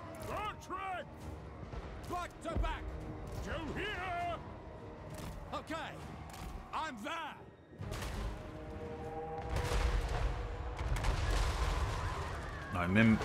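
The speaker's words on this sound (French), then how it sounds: "C'est vraiment fort, en fait, les canons ogres." Ogre cannons fire in a Total War: Warhammer III battle, heavy booms and impacts going off repeatedly over battlefield noise and game music, with someone talking throughout.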